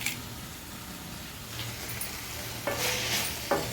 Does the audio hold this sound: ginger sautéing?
yes